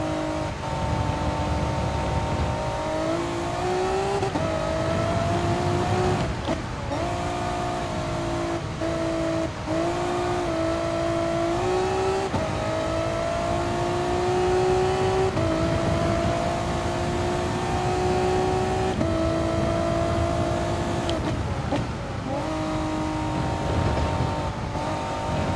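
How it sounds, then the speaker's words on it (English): Race car engine in Gran Turismo Sport revs steadily while the tires slip, a continuous strained drone that rises and drops in pitch over a long stretch, with no talk. "The reason why the engine isn't revving up properly is because it's slipping,"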